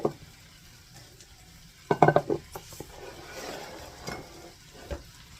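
Ground beef and potatoes stirred in a pan produce scattered scraping and clinking of a utensil against the pan, with one cluster of louder clatters, over a faint sizzle.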